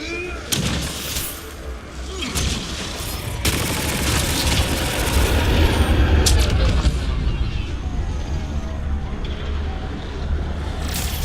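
Sniper gunfire in the sci-fi shooter Mass Effect: Andromeda: a few sharp cracks cut through a loud, steady roar of combat noise and rumble that runs throughout.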